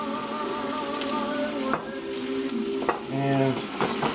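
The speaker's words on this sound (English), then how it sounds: "Let that saute, and I'm going to actually throw my tomatoes in." Tomatoes sizzle and crackle in a hot sauté pan with thin-cut steak, a steady loud frying hiss with brief stirring scrapes and pops, no voices.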